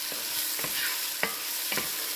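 Whole garlic and tomato going into a pot for beef bone marrow soup, giving a soft background sizzle broken by a few sharp stirring clatters and taps, close by with no talk.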